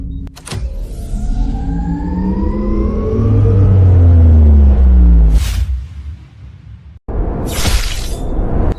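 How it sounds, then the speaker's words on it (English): A spaceship's jump drive powers up: a rising mechanical whine sweeps upward over a deep swelling rumble, then cuts to two sharp bright bursts of rushing noise. "Jump drive ready. Jump."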